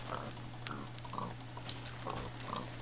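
Pig grunts from a Minecraft pig come in short, soft bursts scattered through a quiet scene, with a steady low hum and faint clicks running underneath.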